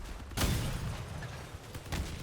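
Rockets fired from a combat vehicle in the game Crossout, two muffled, distant-sounding blasts about a second and a half apart, quiet against the game's background rumble.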